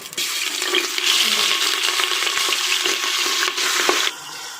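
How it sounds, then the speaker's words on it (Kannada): Chicken pieces drop into two spoons of hot oil in a pressure cooker, setting off a loud, close, continuous sizzle with stirring scrapes that cuts off sharply near the end, leaving quiet kitchen background. "ಕುಕ್ಕರ್ಗೆ ಎರಡು ಸ್ಪೂನ್ ಆಯಲ್ ಹಾಕಿ ಇಟ್ಟಿದ್ದೀನಿ ಈಗ ಈ ಚಿಕನ್ ಹಾಕ್ಕೊಳ್ಳೋಣ"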